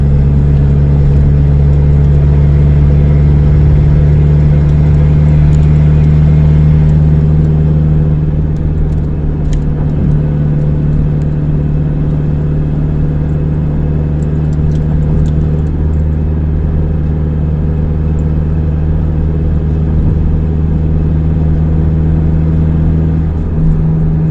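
A vehicle engine drones loud and steady as it drives uphill in third gear, hauling a load of pineapples on the mountain road from Chonburi to Khon Kaen. The low rumble holds constant throughout with no speech.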